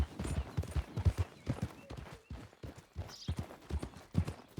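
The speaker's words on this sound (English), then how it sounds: "o cavalo trombou nele e saiu correndo" Horse hooves in the game Red Dead Redemption 2 clatter in quick, uneven galloping beats as the horse runs off, fairly close and loud, with scattered game noise around them and no one talking.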